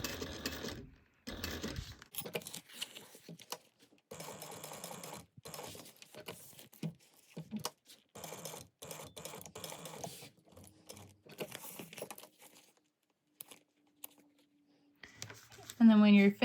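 A home sewing machine stitches fabric for a Melody sew-along project in short bursts of rapid whirring broken by pauses, with a person talking between runs.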